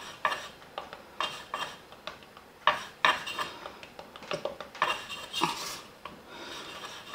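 A palette knife scrapes and rolls along the edges of a fishcake on a hard surface, with a series of short rasping strokes and light taps coming in irregular bursts, close and fairly quiet.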